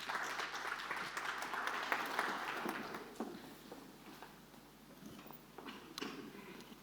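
An audience at an energy technology summit applauds steadily, a dense wash of clapping that carries on throughout at a fairly soft, distant level.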